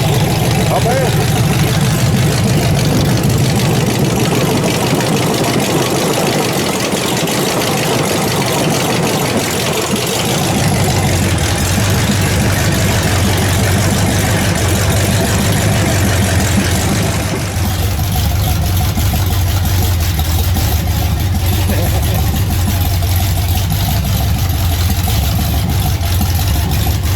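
A 1966 GMC engine fired up without a pump shot runs steadily for the whole stretch, a continuous loud low idle rumble, with people talking over it.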